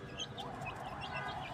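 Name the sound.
chickens clucking while eating leaves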